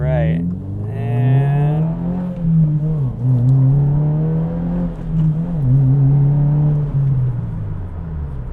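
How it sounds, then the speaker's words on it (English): Engine of a 2022+ Subaru WRX pulling hard, its strong droning tone rising and dipping through several gear changes, loud and close throughout the run. "We're gonna do a pull up here because there's a space that we can actually accelerate here"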